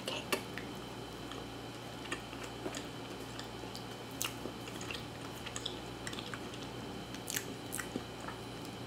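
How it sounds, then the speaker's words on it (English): Pumpkin pound cake with salted caramel being eaten up close, with soft intermittent chewing and moist biting clicks scattered over a steady quiet background hum, no talking. "Let me eat some more cake."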